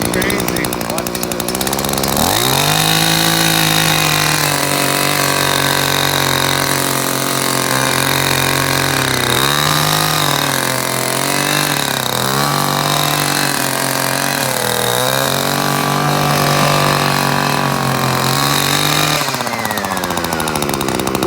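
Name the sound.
gas string trimmer running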